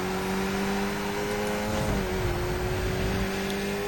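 Simulated race car engine from a sim racing video game, a steady droning tone that holds for the whole stretch, dipping briefly in pitch midway, with no talk over it.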